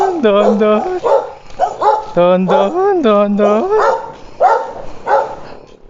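Several dogs bark and yip nearby in quick bursts, while a person speaks over them.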